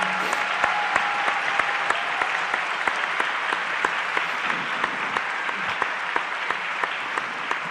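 An audience claps at a youth assembly event, steady sustained applause with crisp individual claps spread across the crowd, moderately distant and continuing evenly throughout.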